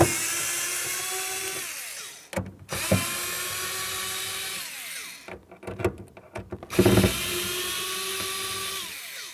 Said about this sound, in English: We can remove all 5 of these bolts and get it out of the way. We'll use our 9/32 socket to remove this.